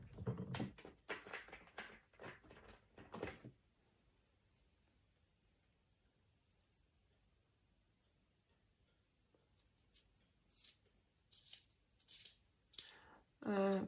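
A makeup pencil is turned in a handheld sharpener, giving a run of close, dry scraping and clicking bursts at the start and again near the end, separated by a quiet stretch.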